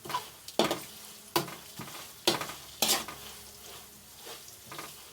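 Spoon stirring salt into a chivda snack mix in a pan, heard as a series of close, distinct scraping and rattling strokes at irregular intervals, about six in all, with a quiet gap between them.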